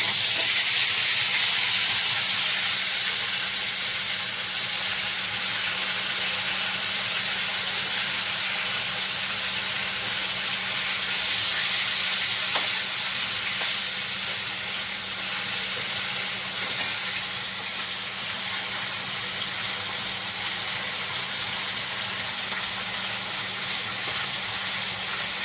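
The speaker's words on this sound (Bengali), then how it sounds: "রুই মাছ কেটে রাখা আছে, এটাকে কড়াইয়ে তেল দিয়েছি, ভাজবো।" Pieces of rohu fish fry in hot oil in a wok, giving a loud, even, hissing sizzle that holds steady from start to finish with no voices.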